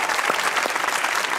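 Studio audience applauding on a Pakistani comedy talk show, dense steady clapping filling the whole stretch at a constant loud level with no talk over it.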